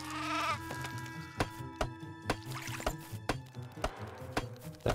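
Sheep in the video game Craft The World bleat in short, wavering cries, one opening the clip and others following, over quiet game music with soft ticking effects.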